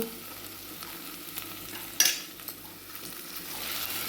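Onion and tomato frying in a pan while a spoonful of salt is stirred in for upma, a soft steady sizzle with scraping stirs and a brief louder clatter near the middle.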